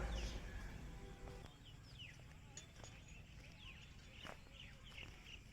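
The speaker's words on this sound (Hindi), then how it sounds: "बहुत सारे पक्षी चहक रहे हैं" Many birds chirp in the morning at the Baba Mastram Ganga ghat in Anupshahr, faint scattered calls over steady outdoor background noise.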